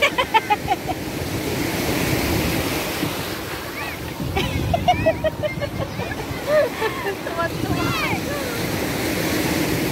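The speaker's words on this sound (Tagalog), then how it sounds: "Sige, tutulak kayo ng alon." Ocean waves break repeatedly on a sunny beach at Bonuan, Pangasinan, a rushing surf wash with wind noise under excited voices of people playing in the water and calling out.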